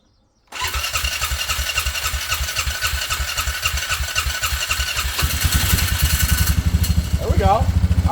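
Polaris snowmobile engine cranking to life on a fresh battery after sitting unused, then running with a rapid, throbbing, loud idle that grows heavier partway through, with a voice briefly heard near the end.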